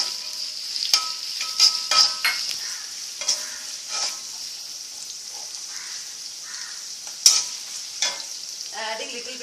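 Onions fry and brown in a pan with a little sugar, a continuous sizzle broken by repeated close clinks and scrapes of a stirring spoon at irregular intervals.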